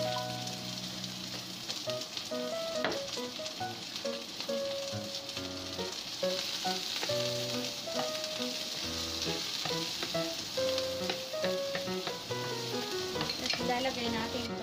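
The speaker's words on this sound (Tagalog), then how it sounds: "maglalagay tayo ng konting oil para iprito natin yung garlic at saka onions" Garlic and onions fry in a little oil, a dense continuous sizzle and crackle with occasional stirring clicks, fairly quiet and steady, no voices.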